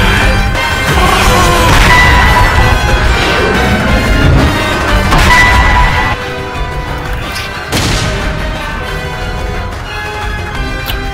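Video game fireworks explosions in a superhero battle: a dense run of loud crashing blasts and booms with swishing bursts, strongest in the first half and then continuing somewhat softer, with no talk over them.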